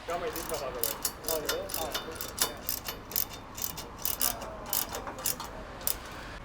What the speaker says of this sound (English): tighten everything up top, get it nice and snug, and then work down to the bottom, tighten up the mounts down there